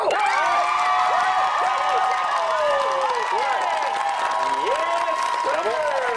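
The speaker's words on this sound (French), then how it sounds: "On fasse monter l'adrénaline des deux concurrents de par cet applaudissement-là qui va être magistral." A television game-show studio audience breaks into dense, sustained applause mixed with loud cheering and whoops. The noise stays steady from start to finish, and shrill voices and whistles rise above the clapping.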